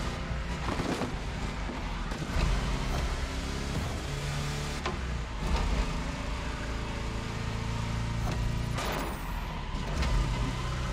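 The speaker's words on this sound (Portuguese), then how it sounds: "os sons do Fusca é muito engraçado aqui no jogo. É os estralos, pipoco" Volkswagen Beetle (Fusca) in The Crew Motorfest video game, its engine droning on a dirt track with scattered sharp pops and crackles over the running exhaust, no talking.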